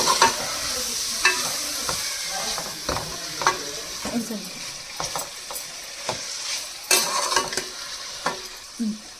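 Cluster beans (goru chikkudu) frying in oil with turmeric, a continuous close sizzle punctuated by repeated scraping and knocking stirs against the pan, with no talk.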